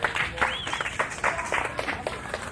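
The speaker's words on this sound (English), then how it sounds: "Give her a round of applause." An audience applauds at the 1990 Smithsonian Folklife Festival, a steady wash of clapping with a voice heard over it.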